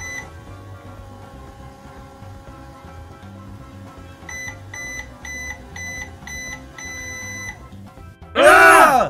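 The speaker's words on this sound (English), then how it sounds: "Let's put it in the microwave and turn it on." Low hum of a microwave oven running with steady tones, then a series of short beeps, ending in a burst of louder noise.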